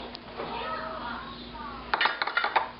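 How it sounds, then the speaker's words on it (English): A metal springform pan is handled for a cinnamon roll cheesecake made with Pillsbury rolls, giving a short cluster of light metallic clinks and knocks near the end, after a stretch of quiet kitchen noise. "the next thing that the video says to do is to take your springform pan"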